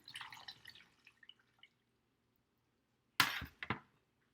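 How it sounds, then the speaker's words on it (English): Pan juices are poured onto a brisket, with a few light drips and small splashes, then a short, louder burst of pouring and liquid spatter near the end. No voices. "And then I'm going to continue to pour the rest in."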